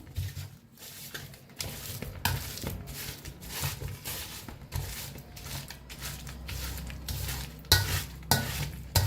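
Ripe bananas mashed with jaggery using a potato masher, close rhythmic squelching presses and soft thuds repeating irregularly, with occasional clinks of the masher against the bowl.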